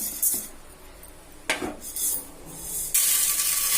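Roasted chana dal scraped from a metal pan onto a plate, with clinking scrapes, a sharp metallic clatter midway and a grainy rattling pour at the end, close and alone.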